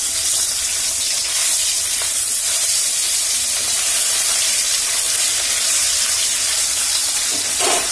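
Pieces of katla fish fry in hot oil, a loud, steady close hiss and sputter that runs without pause and without voices.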